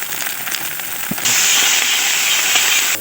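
Ginger and garlic paste hit reddish fried onions in a hot pan, bursting into a loud, steady sizzle after a soft clatter, continuing close for about two seconds with no talk.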